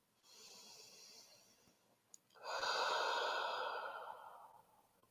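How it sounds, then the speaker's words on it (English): A slow, deep relaxing breath during a beginners' yoga session: a soft inhale followed by a longer, louder exhale that fades out, close and alone. "slow, deep breath here."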